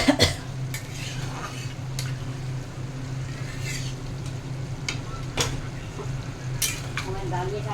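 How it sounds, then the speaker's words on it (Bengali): A ridge gourd and potato curry, with water just added, is stirred in a pot, with soft scraping and clinking of a spoon over a steady low simmer, and a cough partway through. "ঝিঙের আলুতে তরকারি জল দিয়ে দিয়েছি"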